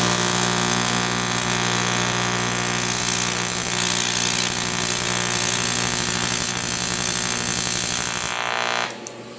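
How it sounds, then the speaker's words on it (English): TIG welding arc tacking cold aluminum with no preheat, a steady loud buzzing hum held for about nine seconds before cutting off near the end, with no talking. "I'll try tacking this without any preheat,"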